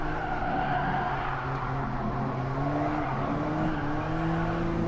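Tires of an Alfa Romeo 4C 1.7 16V TBI squealing as the rear slides out at Interlagos in GT Sport, a wavering screech rising and falling over a steady engine roar.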